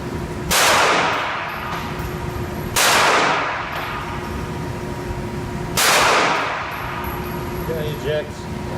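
Three loud gunshots from a Ruger SR9 pistol at a shooting range, spaced a few seconds apart, each with a sharp crack and trailing echo.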